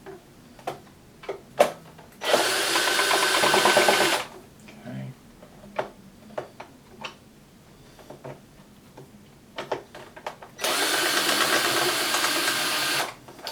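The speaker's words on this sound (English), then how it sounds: "Let's get the rest of the screws out." An electric screwdriver backs screws out of a Hitachi TRK-5330H cassette radio in two sustained whirring bursts. Clicks and handling taps of loose parts fill the gaps, and no one talks.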